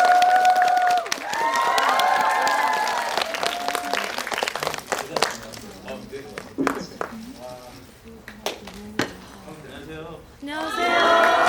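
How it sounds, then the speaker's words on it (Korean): A Korean cinema audience at a Lotte Cinema World Tower screening Q&A for the film Escape applauds and shrieks as actors Lee Je-hoon and Park Jung-min enter. Loud sustained clapping with excited cheers thins into sparse claps, voices and a final burst of cheering. "박수 부탁드리겠습니다"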